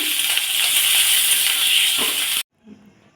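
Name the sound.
tomato frying and being stirred in oil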